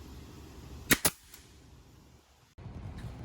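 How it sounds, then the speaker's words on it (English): A nail gun fires into wooden trim in a workshop under construction: two sharp, close shots in quick succession, then a quiet background hum. "Decided to go home and grab my nail gun"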